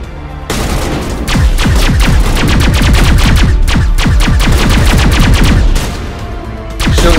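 Rapid gunfire in the video game Mass Effect, aimed at a Krogan warrior: dense bursts of loud, sharp shots stream in quick succession for several seconds, briefly easing near the end before resuming, with no talking.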